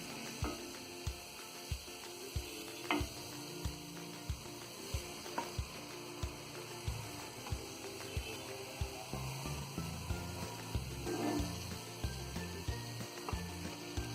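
Donuts deep-frying in hot oil make a steady crackling sizzle with frequent small pops and clicks, moderately quiet and continuous throughout, with no voices.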